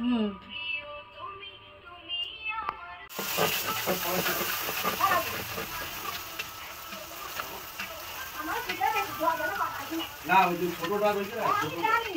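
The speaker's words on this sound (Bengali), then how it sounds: "এই যে গরম গরম ফুচকা ভেজে তোলা হচ্ছে, আর এগুলো পাপড়ি হয়েছে" Fuchka shells deep frying in hot oil, a steady hiss and sizzle that starts abruptly and carries on throughout, with people talking over it.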